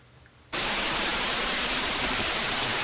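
A steady, loud hiss of white noise from a synthesizer noise oscillator in Logic switches on abruptly after a brief quiet moment and holds evenly to the end.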